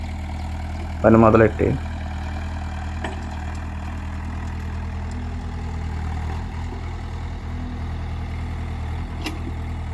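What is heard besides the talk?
excavator digging a large pond embankment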